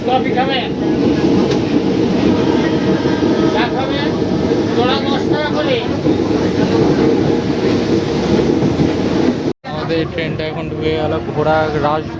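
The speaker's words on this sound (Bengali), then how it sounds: "আপাতত আমাদের ট্রেনটা ঢুকে গেল ঘোড়া রাস ঘোনা স্টেশনে" A Sealdah–Taki Road local train pulls into a station, its loud rumbling and rattling wheels running continuously, with one brief dropout near the end and a voice talking over the noise.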